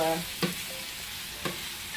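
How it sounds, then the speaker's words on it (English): Vegetables for a vegan carbonara sizzle steadily in a pan, with two soft scraping stirs heard close up over the constant frying hiss. "I don't want to stir them too much. Break it all up."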